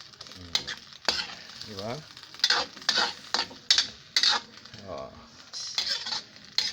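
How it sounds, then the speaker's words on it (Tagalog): Leaves stirred into sardines in a pan make a soft sizzle with spoon scrapes and clinks against the metal, coming in bursts between stretches of someone talking. "Haluin ulit natin."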